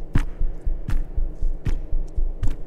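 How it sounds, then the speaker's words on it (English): Slow, steady heartbeat pulses in the video game How Fish Is Made, deep double-thump beats repeating about every three-quarters of a second, close and prominent with nothing else over them. "I don't like the little heartbeats."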